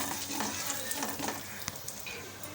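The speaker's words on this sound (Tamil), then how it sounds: "கடலைப்பருப்பு பெருங்காயம் சேர்த்து கலந்து விட்டுக்கலாம் பருப்பெல்லாம் கொஞ்சம் தாளித்து ரெடியாகட்டும்" Chana dal and asafoetida sizzle and crackle steadily as they temper in hot oil in a pan, with a few stirring scrapes, close and continuous throughout.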